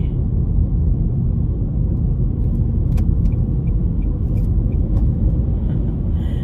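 A car driving along a road in Norway, heard from inside as a steady, loud, low rumble of engine and tyres that holds even throughout, with no voices.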